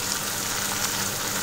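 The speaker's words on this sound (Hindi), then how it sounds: "टमाटर को बिल्कुल सॉफ्ट होने तक हमें इसे भूनना है" Tomatoes and cashew pieces fry in a pan with onions for kadai paneer, giving a steady, close, even sizzle throughout with no talk.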